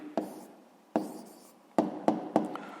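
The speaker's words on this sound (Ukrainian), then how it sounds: "Записуємо відповідь." Writing out the answer to a sixth-grade maths problem by hand: quiet scratching strokes broken by five distinct taps as the writing tool touches down, near and unaccompanied by speech.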